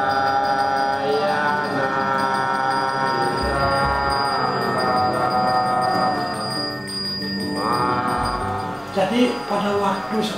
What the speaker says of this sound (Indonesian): pada waktu pemangku itu pakai genta itu